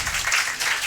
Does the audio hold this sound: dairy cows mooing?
no